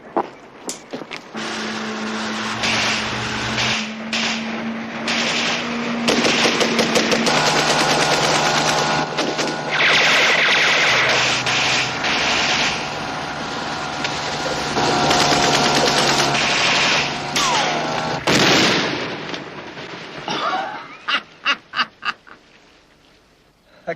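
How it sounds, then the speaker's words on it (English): In a 1970s British TV action series, rapid gunfire and a grenade launcher sound off in loud bursts through a long chaotic stretch, with a steady mechanical whine beneath and sharp isolated shots toward the end. "They've given the mad bastard a cannon. A grenade launcher."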